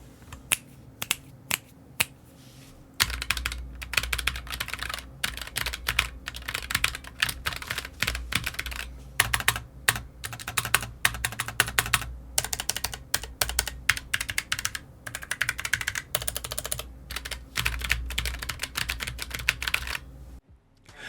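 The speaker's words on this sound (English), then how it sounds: "The low profile switches are the same, and to be honest, I'm not a huge fan of the sound." Rapid typing on a Redragon Azure K652 low-profile keyboard with brown tactile hot-swappable switches: a dense, steady patter of close keystrokes with occasional heavier thocks, no talking.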